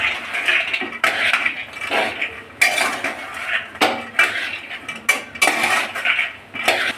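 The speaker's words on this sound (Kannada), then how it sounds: "ಈಗ ಒಗ್ಗರಣೆ ಜೋಡಿ ಇದನ್ನ ತಿರುವಾಡ್ಕೊಳ್ಳೋಣ" Soaked, washed lentils stirred into a tempering in a metal pan, a spoon clanking and scraping the pan in repeated close, loud strokes with short pauses, no speech.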